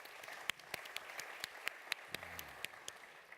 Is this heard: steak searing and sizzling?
no